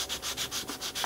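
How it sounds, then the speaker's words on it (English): Hand sanding of a small laser-cut part for an HO scale model building, about seven quick, even back-and-forth rasping strokes, close and clear, with no talk. "Keep sanding away carefully,"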